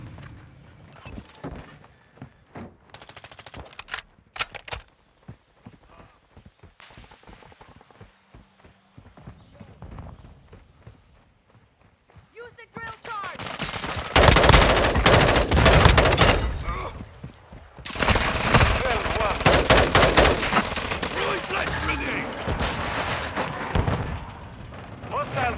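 Heavy bursts of gunfire and explosions in the video game Call of Duty Modern Warfare 2. Sparse shots give way to long, loud, dense volleys, with voices talking in between.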